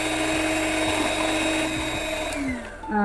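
An electric blender churns buttermilk to make moru, a steady close whirring motor drone with rhythmic thumps, winding down near the end.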